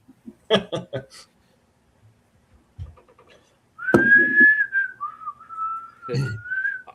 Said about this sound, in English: There's some whistling for you.